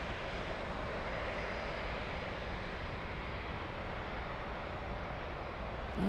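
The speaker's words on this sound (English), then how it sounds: "We have Lufthansa 1092, an Airbus A320 taxiing to the runway" Lufthansa Airbus A320 taxiing to the runway at Frankfurt airport, a steady broadband engine roar at moderate distance, even and unbroken throughout.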